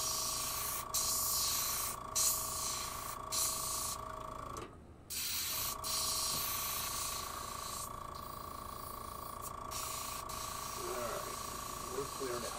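A spray can of clear coat hisses steadily and close as it is sprayed over a batch of fishing lures, with one brief pause midway and short breaks through the run.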